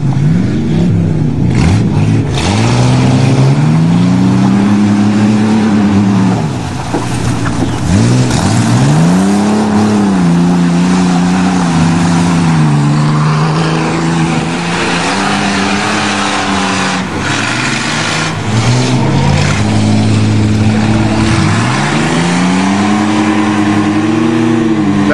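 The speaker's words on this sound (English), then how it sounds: "it's just a between Chevy and Dodge now. Side by side, who's gonna win?" Chevy and Dodge trucks race side by side at a muddy farm derby, their engines roaring loud and close, revving up and down in long surges with no pause.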